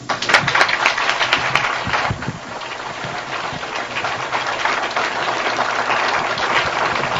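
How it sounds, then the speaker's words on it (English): A lecture audience gives steady, dense applause for Dr. Ivan Van Sertima at the end of his talk, a continuous clapping wash that lasts throughout. "let's give him another warm round of applause"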